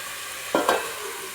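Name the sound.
chicken stirred with turmeric and rock salt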